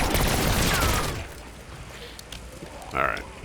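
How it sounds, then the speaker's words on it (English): Gunshots fired at zombies in Call of Duty Zombies: a loud burst of rapid shots at the start that fades into quieter background game noise, with one more short bright sound near the end. "And shoot another one."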